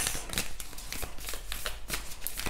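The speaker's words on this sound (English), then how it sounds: "This deck is so hard to shuffle." Soft riffling and flapping of a deck of cards being shuffled, repeated bursts, fairly quiet and close.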